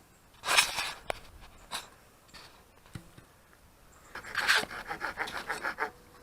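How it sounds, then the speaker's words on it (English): Rasping bursts of a handsaw working through a willow branch outdoors, with irregular strokes, pauses and a few clicks, then a quicker run of strokes near the end. "now just sawing it into a manageable section"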